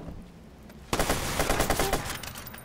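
Rapid automatic gunfire from a Watch Dogs firefight bursts in loud and dense after a quiet start, continuing as a sustained volley of overlapping shots.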